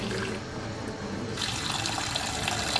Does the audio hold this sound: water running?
yes